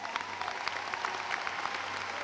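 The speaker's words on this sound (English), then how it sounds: "let's give her a round of applause" Commencement ceremony audience applauding in a large hall, a dense, even wash of many clapping hands sustained at moderate loudness throughout.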